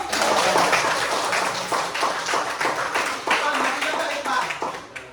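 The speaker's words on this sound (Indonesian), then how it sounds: "Tepuk tangan dong buat saya" Hands clap in a classroom music lesson, a series of distinct, fairly close claps at an uneven rhythm with talking underneath.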